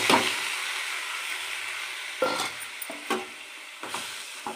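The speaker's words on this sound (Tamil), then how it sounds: "கொட்டி நல்லா கிளறணும்." A spoon stirs pumpkin and beans in a frying pan over a steady oily sizzle, with several distinct scraping strokes against the pan breaking through the hiss at a loose, unhurried rhythm.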